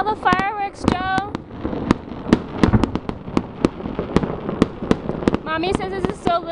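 Outdoor fireworks on New Year's, loud crackling bursts and booming bangs at an uneven rapid pace throughout, with a person speaking over them at the start and again at the end.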